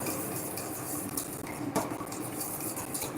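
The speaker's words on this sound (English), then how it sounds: "Let me beat the egg a bit. So we beat the egg for a while." Rapid, continuous clinking and scraping of a utensil beating eggs inside a bowl, close and steady throughout with no talking.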